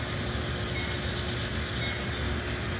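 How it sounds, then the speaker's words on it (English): A model train rolls across an icy winter scene in a miniature display, giving a steady, continuous rumble of wheels and motor that holds even throughout, close and moderately loud with no talking. "Here comes the train here. The train over the ice."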